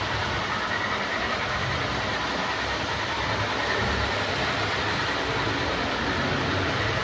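Model train rolling downhill on a Reading Catawissa Branch layout, a steady low rumble and hum that stays even and moderately quiet throughout, with no talking.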